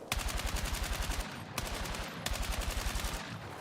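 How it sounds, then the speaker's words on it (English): A high-damage assault rifle in a video game fires in two rapid full-auto bursts, close and loud, with steady rhythmic shots and a brief pause between them. "That's one of the higher damage dealing assault rifles."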